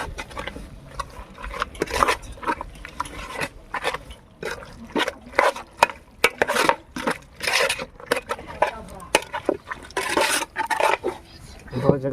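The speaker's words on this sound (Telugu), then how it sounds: "మటన్ మసాలా కూడా ఒకటి వేసుకొని కలుపుకుందాం" A spoon scrapes and clanks against a pot as mutton with chili and mutton masala is stirred over a village cookfire, irregular metallic knocks and sloshing repeating up close, with occasional voices nearby.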